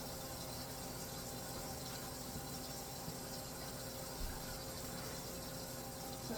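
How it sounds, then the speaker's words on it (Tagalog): Cold tap water runs steadily into a kitchen sink while chicken is rinsed for tinola, a constant loud hissing stream with no pauses and no speech. "Ipararan lang po natin ng tubig na malamig po yung sink."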